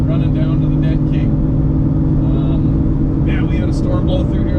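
Steady loud drone of a 31-year-old Foxbody Mustang heard from inside the cabin, a constant low engine and road rumble throughout with faint voices and bumps over it.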